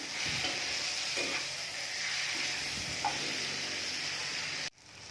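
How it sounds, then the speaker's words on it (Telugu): Omelette pieces and tomato pieces sizzle steadily in a pan while being stirred, with soft scraping strokes over a continuous fry hiss at moderate loudness, cut off by a brief break near the end. "టమాటా ముక్కలు ఇలా ఫ్రై అయిన తర్వాత ఆమ్లెట్ ముక్కలు వేసుకుని ఇలా కలిగి పెట్టుకొని"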